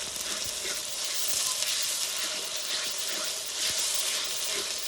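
Garlic paste fries with browned onions in a pan, giving a moderate, continuous sizzle with soft scraping bursts as it is stirred. It stays fairly quiet and close, with no voices.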